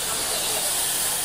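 Gotta Be holding spray misted from a can onto a beard during a barber lineup, one continuous close hiss of even loudness lasting just over a second.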